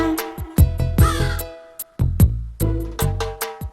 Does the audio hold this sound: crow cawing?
yes